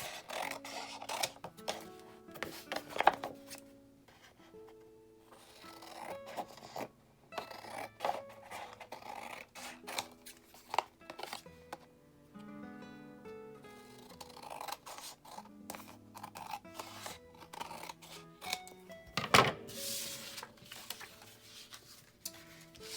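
Scissors cut through cracker box cardboard for junk journal tags, making scattered, close, quiet snips and crisp rustles with pauses between cuts.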